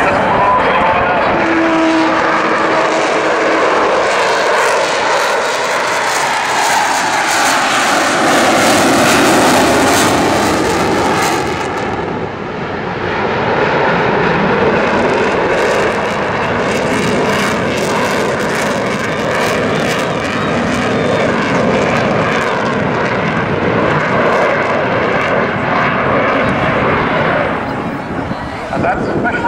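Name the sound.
Avro Vulcan XH558 jet bomber engines at airshow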